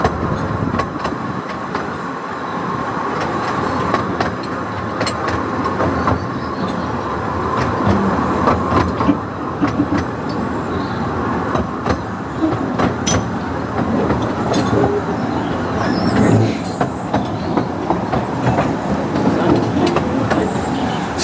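A Ravenglass and Eskdale Railway miniature locomotive, Willenbeck, passes with its carriages near a stream, giving a loud steady rumble with rhythmic wheel clatter that swells and fades over about twenty seconds.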